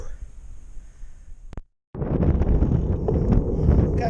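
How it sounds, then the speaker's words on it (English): Gusty wind rushes and buffets the microphone, briefly cutting out before returning louder and steadier. "A bit less windy today. Still very blustery"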